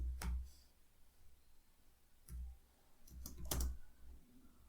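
A computer keyboard is typed on during Python coding, giving a few faint, close clicks and thuds spread unevenly, with a short cluster near the end.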